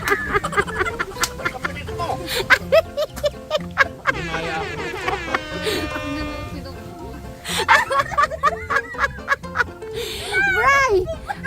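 Chickens cluck and squawk close by amid excited talking and shouting from several people celebrating a winning chicken, with bursts of loud bird calls rising over the voices.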